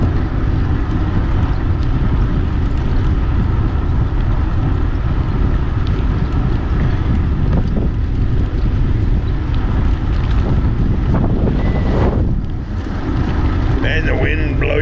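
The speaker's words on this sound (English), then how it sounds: "And the wind blow you over today. 10 to 15 knots." Strong 10 to 15 knot wind buffeting the microphone on a bike ride along the Lower Florida Keys near a boat ramp, loud continuous roaring gusts throughout.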